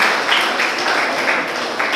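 A classroom of students in grades 9 to 12 clapping for themselves, a dense, steady wash of applause lasting the full two seconds with no talk over it.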